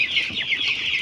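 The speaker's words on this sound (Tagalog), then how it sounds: "Aming mga manok." Twelve-day-old chicks on a poultry farm cluck and peep in a continuous high chorus, close and fairly loud, with no pauses.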